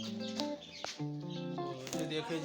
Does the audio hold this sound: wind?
no